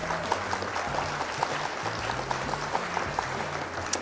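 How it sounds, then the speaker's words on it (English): Steady applause from a crowd, a dense patter of clapping that holds at an even level throughout, with faint low tones underneath. "Round of applause for opponent"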